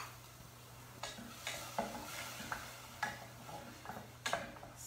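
Ginger, garlic and jalapeno sauté in veggie broth as a quiet background sizzle, with a utensil tapping and scraping the pan in irregular clicks every second or so.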